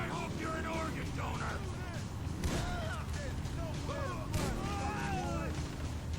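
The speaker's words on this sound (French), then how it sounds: "Oh, l'explosion de fou!" Explosions in the video game GTA V story mode: two heavy booming blasts land amid continuous game noise while a voice talks excitedly over the action.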